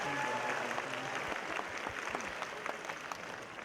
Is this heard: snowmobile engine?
no